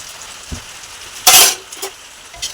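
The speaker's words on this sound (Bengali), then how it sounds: "পেঁয়াজ কাঁচা লঙ্কা ওরা ফ্রাই করে নেবে কড়াইতে দিয়ে দিল তেলের মধ্যে" Onion and green chillies frying in hot oil in a wok give off a steady low sizzle, with one loud burst of crackling spatter midway and a few smaller pops after it.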